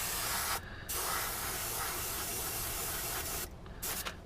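A spray can of Testors paint coats a Saturn V rocket model in a diorama with steady, close, hissing bursts, two brief pauses breaking the spray.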